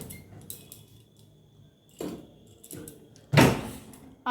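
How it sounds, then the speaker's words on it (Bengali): A refrigerator door in a home kitchen is opened to take out green bananas: scattered small clicks and clatters, then a louder clunk near the end, with quiet gaps between. "ফ্রিজ খুলে এখন কাঁচা কলাগুলো বের করবো"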